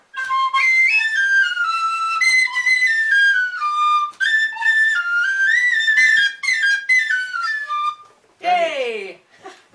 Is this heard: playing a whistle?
yes